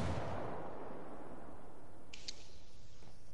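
A frag grenade blast in Ghost Recon opens with a loud, deep boom that fades into a long rumbling tail, followed by a couple of faint, sharp distant cracks.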